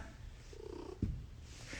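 A house cat purrs softly and steadily close by in a quiet room, with a faint rumble and one brief bump partway through, and no talking.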